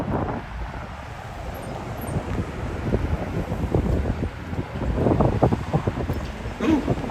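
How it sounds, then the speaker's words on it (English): Gusty wind roars across an outdoor microphone on a city street in Lexington, Kentucky's Distillery District, a steady broadband rush that swells and buffets in louder waves, with no voices. "Ooh, windy, windy, windy."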